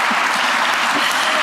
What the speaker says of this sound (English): We're going to stand up and give him a round of applause